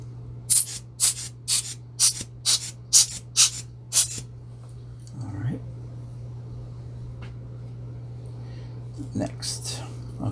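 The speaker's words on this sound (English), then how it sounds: "let's just give it one last hit with the blower" A hand air blower puffs on disassembled parts of a Konica Auto S2 35mm rangefinder film camera, about eight quick, sharp hissing bursts in a steady rhythm, followed by quieter handling sounds and two more faint puffs near the end.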